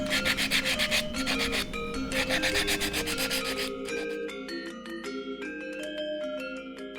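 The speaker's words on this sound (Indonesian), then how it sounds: "dilanjutkan ke proses penghalusan topeng dengan menggunakan amplas" Sandpaper rubs rhythmically against a carved wooden mask in quick back-and-forth strokes, with tonal music playing alongside and taking over toward the end.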